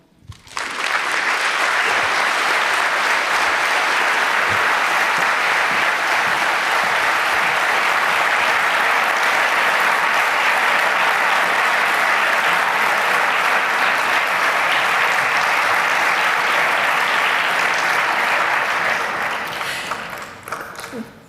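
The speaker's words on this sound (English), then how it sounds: "As you can hear that applause" Sustained audience applause follows a speech at the UNESCO Internet for Trust global conference: a loud, even wash of many clapping hands that holds for about twenty seconds before tapering off, with faint voices near the end.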